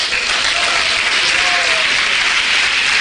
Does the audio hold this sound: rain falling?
no